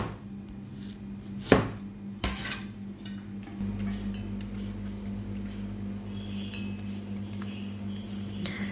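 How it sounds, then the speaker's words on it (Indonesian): Zucchini and other vegetables being sliced for a stir-fry, with two sharp knife strikes on a board early on, then a low steady hum and faint clinks of kitchen utensils nearby. "Ini kita iris-iris dulu semua seperti ini."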